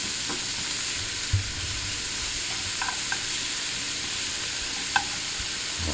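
Mushroom stems frying in a pan while being stirred, a continuous close sizzle broken by a few soft scrapes and knocks of the utensil against the pan.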